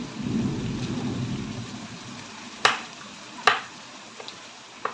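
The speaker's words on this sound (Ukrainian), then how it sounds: "Погода вирує, грім гримить, піде дощ сильний" Distant thunder rumbles low beneath steady rain, with a few sharp cracks and drips standing out near the end.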